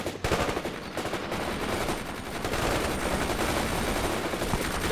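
Machine gun fire in the military strategy game World in Conflict, a loud, unbroken rattle of rapid automatic bursts layered over battlefield noise for the whole stretch.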